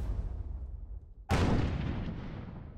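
Guns of Icarus Online airships exchange Gatling and mortar fire: distant rumbling booms, then one sharp, loud blast that rings out and fades slowly.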